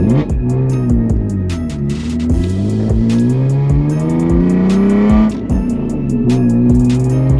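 A BMW E46 M3 engine revs hard through rising gears, its loud valvetronic exhaust roaring and crackling with sharp pops between shifts, close by.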